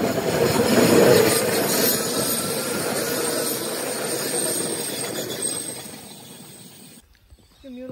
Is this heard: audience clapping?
no